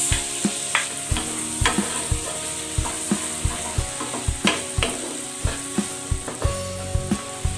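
Onion and garlic sautéing in butter in a hot pan, a loud continuous sizzle broken by regular rhythmic scrapes and knocks of a utensil stirring, with no talking.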